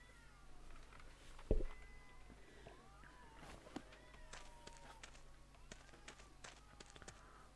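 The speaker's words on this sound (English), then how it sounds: "meow. Cat sounds." A cat meows repeatedly in the video game A Space for the Unbound, with several short rising and falling mews spread over a few seconds, fairly quiet, with a thump, some light taps and soft background music.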